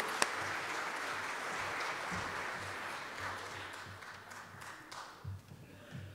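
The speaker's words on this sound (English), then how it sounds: "should we give them all a round of applause?" A church congregation applauds during a Christmas Day service, with a broad wash of clapping that slowly thins and fades toward the end.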